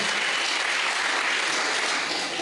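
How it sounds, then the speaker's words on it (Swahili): Steady, dense clapping from a church congregation, loud and sustained throughout with no pauses, like an audience applauding together. "Pigia Yesu makofi."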